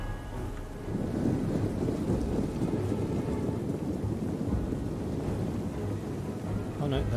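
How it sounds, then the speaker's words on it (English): Steady rain with low thunder rumbling through a battle in the strategy game Total War: Attila, a dense wash that swells after the first second and holds loud and constant to the end. "Thankfully it's raining, so any fires that are going right now will just be put out."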